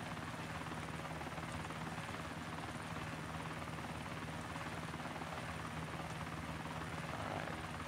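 Steady, loud helicopter rotor and engine drone from an aircraft in the DayZ Lingor game, holding constant throughout with no breaks or talk.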